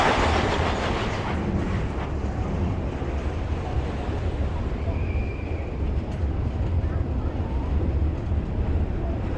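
A roller coaster train at Blackpool Pleasure Beach rumbles loudly past close overhead, a steady heavy clatter and roar on the track that continues throughout.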